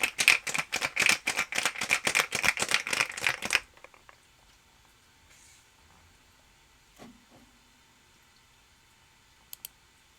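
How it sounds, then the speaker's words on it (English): A cocktail shaker is shaken hard in the video game Mass Effect 3, with a fast burst of rattling ice clatter for about three and a half seconds, then quiet with faint stray clicks and a small knock. "Give it a good shake. About 15 to 30 seconds."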